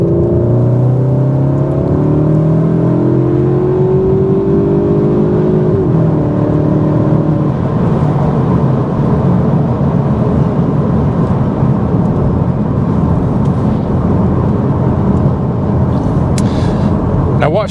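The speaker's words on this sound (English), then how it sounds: "I'm going to stop talking and let you hear the Symposer sound." A 2025 CUPRA Formentor VZ3 with its 333 PS engine revs in Cupra mode through the Sound Symposer, a loud steady engine drone with rising pitch early on, heard from inside the cabin and continuing for the whole stretch.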